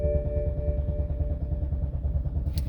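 A 2007 BMW X5 4.8 V8 with a crank-no-start fault turns over on the starter, a steady rhythmic cranking churn that runs on without catching.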